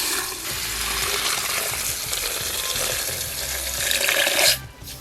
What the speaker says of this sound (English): And then you're gonna just put some water in it.